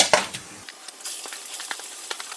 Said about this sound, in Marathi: तेल मी तापाला ठेवलं आहे आता यात टाकते मी कांदा